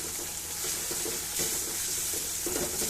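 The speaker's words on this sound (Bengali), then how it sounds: "আদা রসুন বাটা এগুলোর সাথে একটু ভেজে দেবো" Ginger-garlic paste frying in a pan, giving a continuous moderate sizzle and hiss with faint stirring movements and no voices.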